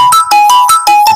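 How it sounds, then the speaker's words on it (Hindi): A phone rings loudly and close with an incoming call from Amazon customer service, a bright electronic ringtone of repeating short melodic tones in a quick, even rhythm. "मेरा नंबर पे अभी कॉल आ गया है"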